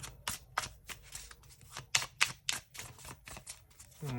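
Tarot cards being shuffled in quick bursts of crisp riffling and flicking, repeated several times, close up and fairly quiet, with no talking.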